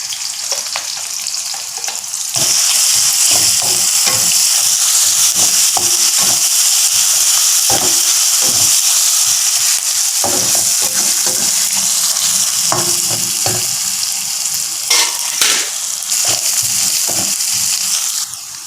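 Ginger and garlic hit a hot pan and fry with a loud, continuous sizzle, broken by repeated scraping and stirring knocks, with no talking.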